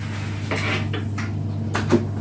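An oven door in an adapted home kitchen opens as shaped bread loaves go in for baking: a few soft thuds and clunks, fairly close, over a steady low appliance hum.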